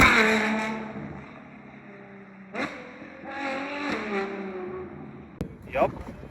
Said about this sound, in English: Yup, that's Novitec exhaust, very loud.